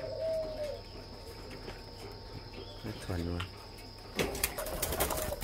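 Tame pairs of spotted doves give a short, low cooing phrase over a constant chirr of insects, while someone talks nearby in Vietnamese.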